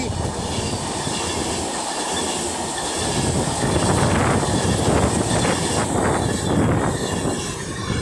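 A Class 390 electric train, 390005 City of Wolverhampton, passes at speed on the West Coast Main Line at Rugby. A steady, loud roar of wheels and rushing air holds throughout, with faint rhythmic clicks over the rail joints.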